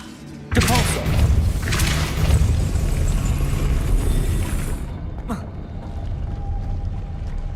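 A Depulso force spell fires in Hogwarts Legacy, a sudden loud booming blast that rolls on as a sustained rumble for several seconds, then a second short thump near the end fading into a low hum.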